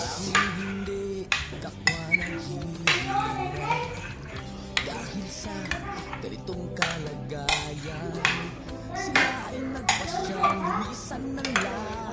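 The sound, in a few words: stirring cream mixture in a bowl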